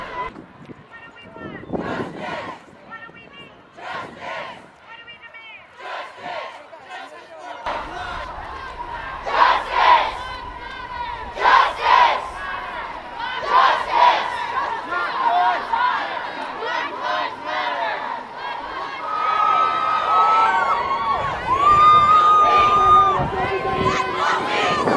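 A large crowd at a Justice for Black Lives protest march near a bus station, a dense continuous wash of many voices shouting and chanting, swelling louder toward the end, with some nearby talk mixed in.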